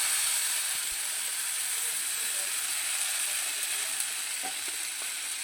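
Water hits hot oil holding fried tempering spices for a potato, pointed gourd and soy chunk curry. It makes a steady, dense hiss that lasts the whole time, with a few faint utensil clicks and no talking.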